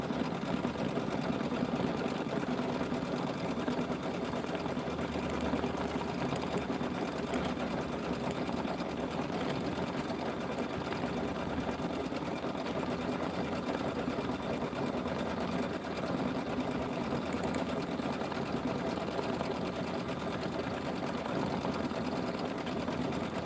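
An embroidery machine quilts a zippy bag in a large hoop, giving a steady, moderately loud mechanical hum and rapid needle chatter that runs unbroken for over twenty seconds.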